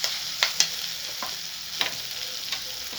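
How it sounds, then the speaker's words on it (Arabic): Rice is stirred into fried onion and its oil in a pot, a soft continuous sizzle under a handful of distinct scraping spoon strokes, two close together near the start and more spread out later. "هتقلبي بقى الرز كده مع البصله مع الزيت بتاع البصل"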